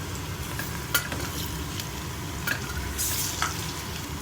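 Ginger-garlic paste frying with onions and turmeric in a pan, a continuous close sizzle broken by a few scraping stirs of a spoon.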